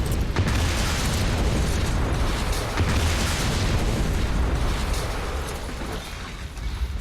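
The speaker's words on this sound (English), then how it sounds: "How many times can a building blow up?" A building blows up in Hitman: Absolution, a sustained, loud, roaring blast with rumbling debris and crackle that stays dense and steady for several seconds before easing slightly at the end, with no voices.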